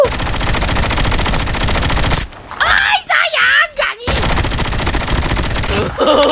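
Loud, rapid automatic gunfire in a shooter video game, firing in sustained bursts with a short pause in the middle. Someone talks over it.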